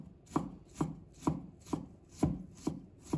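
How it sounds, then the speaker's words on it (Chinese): A knife chops ginger on a cutting board with seven evenly spaced, crisp strikes about half a second apart. The strikes are close and clear, with no talk. "再准备1块生姜，把它切成片，再切成丝"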